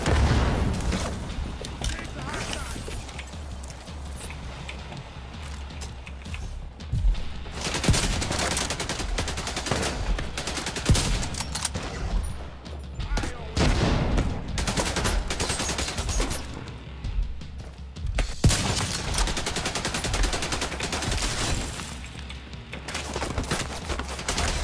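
Rogue artillery turret firing in a video game, a long stretch of rapid, dense gunfire and thudding booms at a fairly low level with game effects layered beneath.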